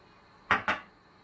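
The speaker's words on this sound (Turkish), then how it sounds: "karıştırmaya devam ediyorum" Onion dolma filling of minced meat and spring onion stirred in a small bowl, heard as two quick, close clinks of utensil against the dish in an otherwise quiet kitchen.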